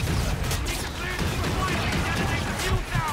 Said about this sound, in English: I don't know who's shooting me